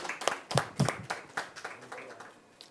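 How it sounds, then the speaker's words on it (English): A small audience claps at a press conference for the Filmfare OTT Awards 2024, with sparse, uneven hand claps that start fairly loud and then thin out and fade. "please give them a big round of applause"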